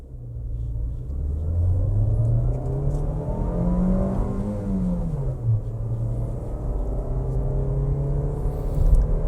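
Nissan Versa Sense 2021 with manual gearbox, its engine revving steadily up toward about 5,000–6,500 RPM, a loud droning rumble whose pitch climbs, peaks midway, then drops back, heard from inside the car with no talking.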